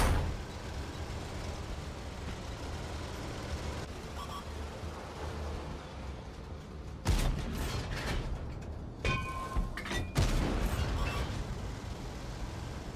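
A Borsig tank destroyer's gun fires in World of Tanks on console, a sharp broadband blast standing out over a steady engine and mechanical rumble, followed by a couple of further bangs and clanks.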